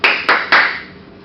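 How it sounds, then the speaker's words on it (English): An audience claps in three sharp bursts, the first two quick and close together and the third landing a moment later, each fading out with a brief scatter of hands. "When you shout as lion, you have to clap."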